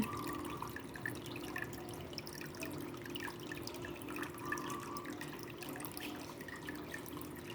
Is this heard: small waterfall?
yes